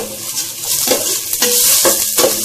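Garlic frying in a pot for chicken sopas, with a steady broadband sizzle and a few spoon-stirring scrapes, close and fairly loud, no talk.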